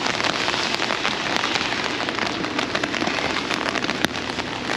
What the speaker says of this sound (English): Rainy day adventure today.